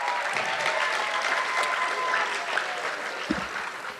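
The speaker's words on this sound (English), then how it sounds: "If we give them a round of applause." Audience applause at a school eighth-grade recognition ceremony, steady sustained clapping from a crowd filling the whole stretch, with a brief low thump near the end.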